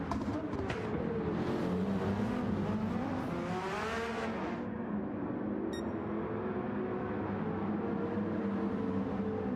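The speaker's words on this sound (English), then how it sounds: "Lovely to hear the variances in sound from these race cars." Several GT race cars from three different manufacturers in Gran Turismo 7, running close together: a loud sustained engine roar with rising and falling revs, a gear-change sweep midway, then a steadier drone.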